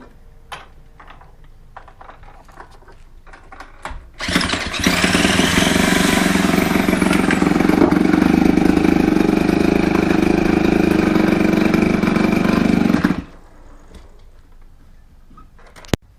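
A moped engine with its clutch locked up roars loudly and steadily for about nine seconds, starting abruptly and cutting off, with quieter rumbling and clicks before and after.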